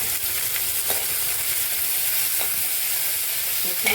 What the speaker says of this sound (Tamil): இந்த தக்காளி போட்டு நல்லா வதங்கிடுச்சு